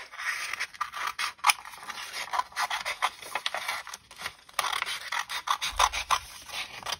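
Scissors snipping through folded, accordion-style paper for a Valentine heart craft, a quick series of close, crisp rasping cuts with no talk.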